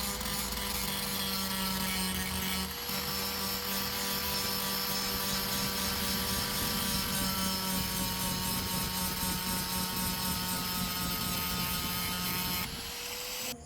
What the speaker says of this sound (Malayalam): ഇനി നമുക്ക് ഗ്രൈൻഡ് ചെയ്യാം.